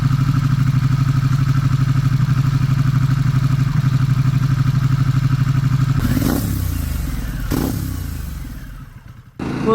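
Motorcycle riding, a steady engine drone that then shifts sharply, with whooshing passes and clatter, loud and close, before the sound fades toward the end.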